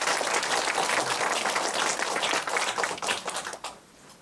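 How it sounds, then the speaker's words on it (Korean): An audience at a pet management system agreement signing ceremony claps together in a dense burst of applause that holds steady, then tapers off and fades out near the end. "한번 큰 박수 부탁드리겠습니다"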